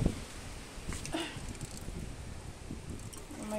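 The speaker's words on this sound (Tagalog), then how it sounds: "Lakas ng hangin guys." Strong wind blowing outdoors in a yard strewn with fallen tree leaves and litter, a steady broadband rush with gusts and faint rustling for a few seconds.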